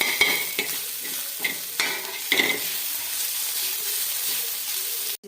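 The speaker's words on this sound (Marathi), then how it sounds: "तव्यावर कांदा परतायला घेतला लालसर होईपर्यंत." Onion frying on a griddle pan for a dried-fish chutney: a soft sizzle broken by several sharp scraping stirs of a spatula, close and fairly quiet, no talk.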